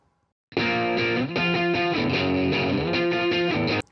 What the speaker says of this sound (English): So it sounds like this played on the guitar.